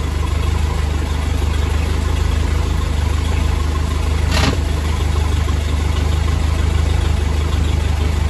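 Pre-alpha vehicle engine running at a steady idle after a shifter cable repair, a continuous low rumble throughout with one brief sharp click partway through.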